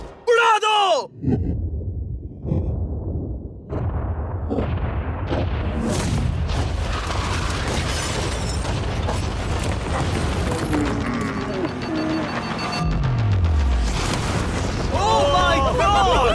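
A yacht is blown up in a deep, rumbling blast that rolls on for several seconds, with crackling debris and shifting low roars. Excited voices sound before and after.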